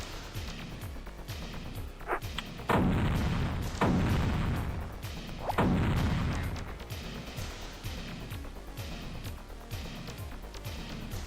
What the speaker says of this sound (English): Blow up both remote bombs.